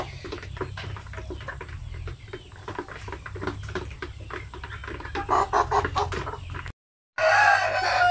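Several Basilan native chickens, one with a cold, cluck and squawk nearby in a busy, overlapping chorus before a brief cut.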